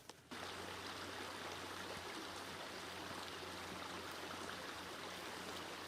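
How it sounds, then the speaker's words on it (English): Running stream water outdoors, a steady broadband rush and trickle that starts abruptly and continues evenly at low volume, with no one talking. "Alright, so we found the stream. It's running water"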